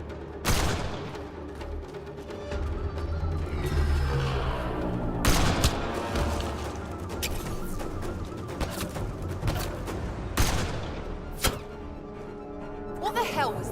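Gunfire during a combat scene in Mass Effect Andromeda, with scattered sharp shots and bursts over a busy mix of game sounds while voices talk and shout throughout.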